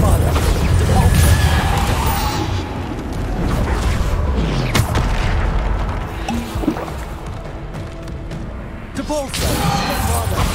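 Bombarda spells burst in the video game Hogwarts Legacy, giving repeated booms, crashes and mechanical clatter through a loud, busy stretch of combat while a person keeps talking over it.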